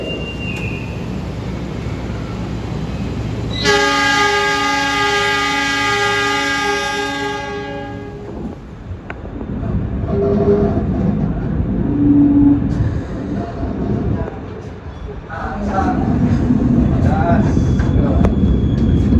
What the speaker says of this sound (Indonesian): Itu masih ada keretanya lewat